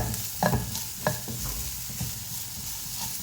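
Drumstick leaf thoran fries with turmeric in a pan while being stirred, with a few sharp scraping strokes over a continuous close sizzle.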